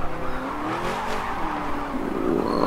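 A 1971 Falcon XY GTHO Phase 3 in the Forza 7 racing game braking into a hairpin, its engine note falling away under tyre squeal before revving back up at the end.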